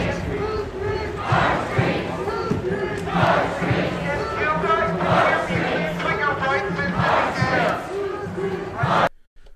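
A protest crowd passes by in the street, shouting in rhythmic chanted bursts that stay loud and steady throughout before cutting off abruptly.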